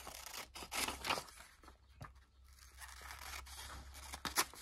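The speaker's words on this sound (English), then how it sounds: "I'm gonna cut this side up and I just trim them down." Scissors cut up a comic book page with repeated crisp snips and papery rustles, close and moderately quiet over a low background hum, with no talking.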